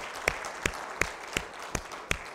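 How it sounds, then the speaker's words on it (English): A church congregation at a Sunday morning service claps together in a slow, steady rhythm: about six separate, evenly spaced hand claps, soft and somewhat distant, with no talking. "Let's give God a hand clap."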